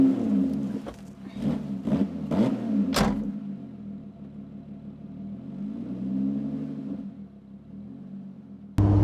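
A Lotus Exige 410 Sport with an exposed gear linkage drives along with a low, steady engine drone. A few clunks of gear changes come early, then a smoother rumble that swells and eases, heard close with no talking.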